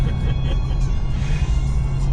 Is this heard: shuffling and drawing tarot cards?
no